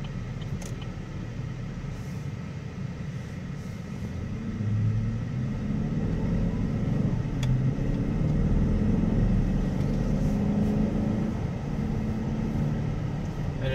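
A truck drives steadily through traffic, its low engine rumble swelling slightly as it shifts gears, with constant road noise and no talk.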